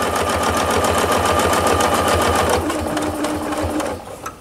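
Sewing machine running fast for free motion quilting with a ruler, a rapid even needle chatter that is close and loud, slowing and stopping near the end.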